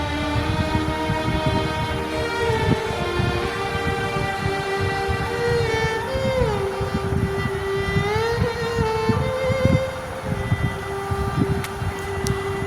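A car creeps slowly along a crowded road during the return Rath Yatra festival, a steady engine drone with a wavering horn-like tone and continuous dense traffic noise around it, no talk.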